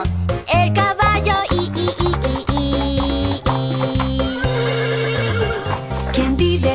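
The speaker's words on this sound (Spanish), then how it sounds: "¡Vive un caballo! ¡El caballo!" A horse neighing on a farm in a children's song, several whinnies set over a loud, steady musical backing with repeated bouncy notes throughout.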